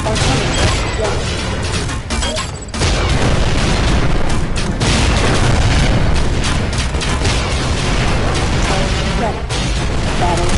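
Artillery fire in the VR battle game League of War VR Arena comes as a loud, continuous barrage of booming blasts and crashing impacts. The booms overlap densely, with a brief dip partway through.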